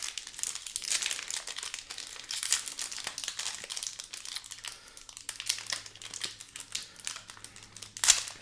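A foil Lost Caverns of Ixalan collector booster pack wrapper being torn open, a close, steady run of crinkling and tearing that lasts the whole stretch with a sharp rip near the end.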